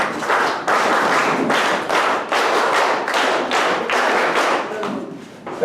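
A group of scouts claps together at an award ceremony in Nashik, India, steady rhythmic unison claps close and loud, with no talk over them.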